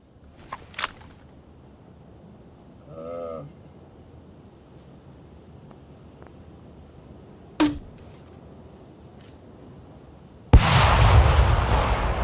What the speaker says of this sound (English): Reap, I'm gonna try to mortar over where you died and see if I can kill this motherfucker